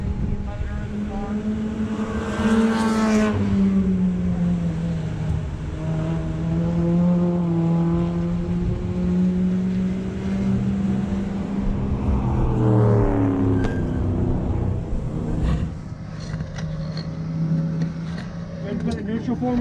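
An Acura Integra track car's engine runs steadily at a fairly constant idle-like tone, with a brief rise in revs, after an oil leak under the motor and a failed turbo; people talk over it throughout.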